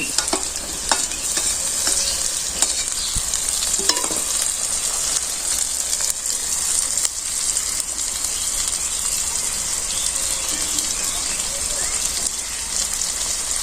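Ginger, onion and garlic paste fries loudly in a pan for a village-style chicken curry, a dense constant sizzle broken by repeated sharp scrapes and knocks of stirring, close up and continuous.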